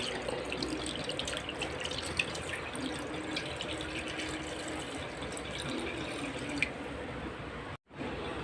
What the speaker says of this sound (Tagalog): Lalagay lang ko dito ng tubig sa ating pot.